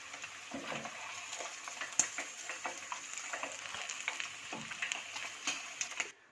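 Spicy Lahori-style fish fillets fry in hot oil with a steady close sizzle, dotted with small pops and crackles and a few sharper ticks, no talking.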